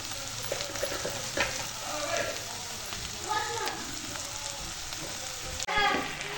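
Tomatoes fry with salt in a pan for chutney, giving a steady soft sizzle and crackle with occasional stirring scrapes, close and fairly quiet throughout.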